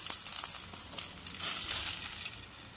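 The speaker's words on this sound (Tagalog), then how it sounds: "Ganda ng pagka-prito ng bangus, o." Milkfish (bangus) frying in oil in a pan, giving a steady, close crackling sizzle with bursts of popping and no voices.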